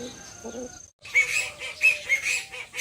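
Poultry calls close by: a rooster's short crowing cry, a brief pause, then a duck's run of loud, nasal honking quacks.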